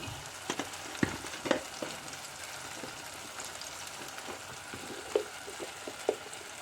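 Ground spices, turmeric and coriander, frying in a pan for a Kerala Onam sadhya masala curry, heard as a low continuous sizzle with occasional scraping stirs and no voices.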